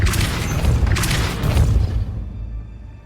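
A Depulso spell is cast in Hogwarts Legacy: a loud, dense, roaring blast of force lasting about two seconds, with two sharper surges before it fades into a low rumble.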